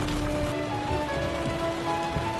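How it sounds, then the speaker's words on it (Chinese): Heavy rain drums steadily on the roof and glass of an XPeng G6 electric car during city driving, a dense, even wash of patter heard from inside the cabin with a faint tonal hum underneath. "啊，这会儿下大雨了"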